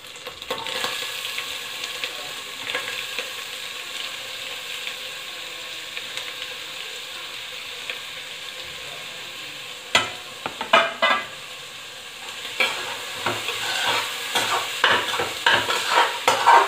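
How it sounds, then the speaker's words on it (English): Chopped onions sizzle softly in oil for a while, then a spatula clatters and scrapes against the pan as they are stirred, the frying growing busier toward the end. "In that I'll be adding the chopped onions,"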